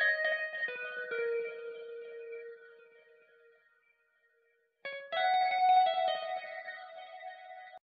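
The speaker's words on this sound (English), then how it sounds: "So for the next sound, we got another jazz guitar." A jazz guitar preset plays a short accent phrase in an Afrobeat production: bright, reverberant sustained chords that fade to near silence, then a fresh chord swell returns, clean and alone with no talk.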